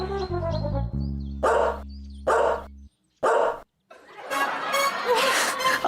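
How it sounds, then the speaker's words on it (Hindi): A black dog lets out three sharp, loud barks in quick succession after a brief tonal sting, followed by a noisy burst that sounds like laughter. "काला कुत्ता भौंका"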